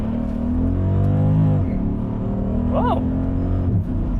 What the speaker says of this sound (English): Tires just chirped on the shift